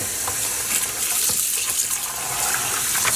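Running tap water rinses a tie-dyed sock blank in a sink with dish soap, a steady loud splashing rush with small irregular spatters and squelches as the fabric is worked under the stream.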